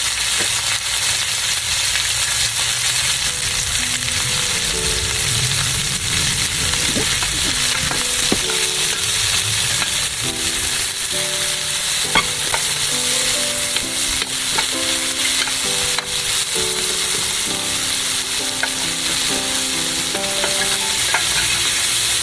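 Onions frying in oil with a pinch of salt, a steady bright sizzle running throughout, with clinks and scrapes of stirring and some tonal ringing from a utensil or pan layered on top.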